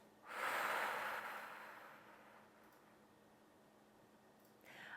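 A single deep open-mouthed exhale during a yoga breathing exercise, a soft close rush of breath that swells and then fades slowly into quiet.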